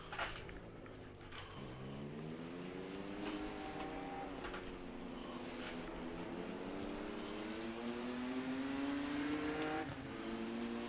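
Race cars in the Rennsport video game roar continuously as engines rev and climb through gears, a steady layered engine drone without talk, fairly faint overall.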